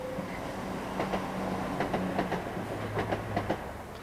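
A Class 170 diesel multiple unit passes on the line, its steady rumble carrying repeated clickety-clack wheel beats over the rail joints at moderate distance, with no talk.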